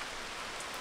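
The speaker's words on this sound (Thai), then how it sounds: "ฝนตกนะครับตอนนี้คือหลบฝนแบบนี้แหละ" Steady rain falls outdoors near a cave in Bueng Kan, Thailand, a soft, even hiss of drops on surfaces with no voices.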